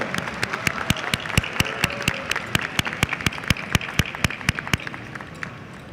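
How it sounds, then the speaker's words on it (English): Applause at a high school graduation ceremony, with distinct rhythmic claps standing out over a softer crowd clapping bed, steady and fairly close throughout. "Once again, a big, big round of applause for our top scholars"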